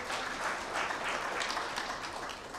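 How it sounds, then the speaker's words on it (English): Steady applause from the audience at an awards dinner held at a hotel in Nairobi, a dense even wash of clapping that holds at moderate loudness throughout without a break. "A round of applause for Mr."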